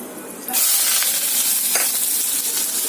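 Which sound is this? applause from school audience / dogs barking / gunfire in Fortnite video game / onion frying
onion frying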